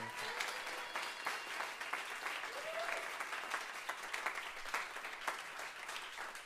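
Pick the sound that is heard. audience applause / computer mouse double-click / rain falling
audience applause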